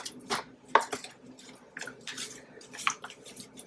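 Raw chicken wings with the tips still on, placed one by one onto a roomy baking pan, giving soft wet slaps and scrapes against the metal in an irregular rhythm, close and fairly quiet.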